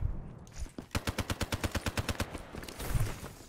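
Rapid automatic gunfire in a video game, a fast run of about fifteen evenly spaced shots lasting under two seconds, fairly close, followed by a louder blast.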